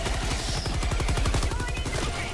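Rapid autocannon fire in the video game Helldivers 2 rattles as a dense, loud burst of repeated heavy shots, with booming impacts filling the whole stretch and chatter from players faintly underneath.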